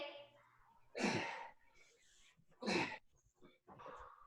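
Heavy, effortful breaths from someone in a workout class, two strong huffing exhalations with softer breaths between, close to the microphone.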